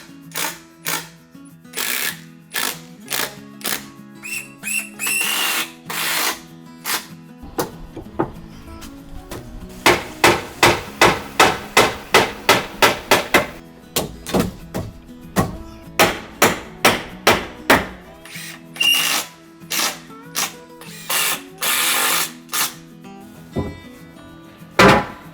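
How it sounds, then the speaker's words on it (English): Wooden deck boards being fastened with screws and nails, set with 1 cm spacers on an American-style deck built by a Japanese carpenter; a long run of sharp, evenly spaced knocks and driving bursts, close and loud, with no talking. "I fasten all the deck boards using the 1 centimeter spacers again to keep the gaps even."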